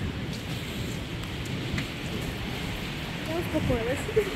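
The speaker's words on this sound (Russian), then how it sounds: "Вот, ребят, сильный у нас сегодня шторм. Очень сильный." Steady hiss of heavy rain pouring down during a storm in Arkhipo-Osipovka, with a brief voice near the end over the downpour.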